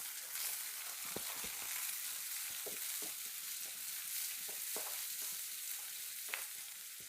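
Onions fry in a pan late at night, a steady crackling hiss with scattered spits and pops and occasional stirring clicks, fairly close and without talk.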